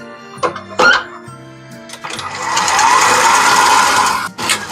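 An electric mixer beats eggs and granulated sugar, whirring up to a steady, close, loud drone after a few knocks and clatters at the start, then briefly dipping near the end.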